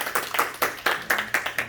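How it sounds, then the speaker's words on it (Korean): Scattered hand clapping from a small church congregation welcoming a guest during a service, a few uneven claps repeating irregularly at moderate distance, fairly quiet and without talk. "우리 박수로 한번 환영하겠습니다"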